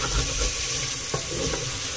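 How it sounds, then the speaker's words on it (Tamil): Chana paneer masala being stirred and sautéed in a pan, a soft continuous sizzle with light scraping strokes, close and even, no voices. "மெதுவாக மிக்ஸ் பண்ணி விட்டுக்கலாம்."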